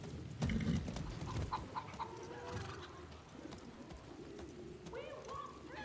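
Horse in the video game Far Cry 6 galloping, quiet clip-clop hoofbeats with a brief whinny amid ambient game sounds, under intermittent voices.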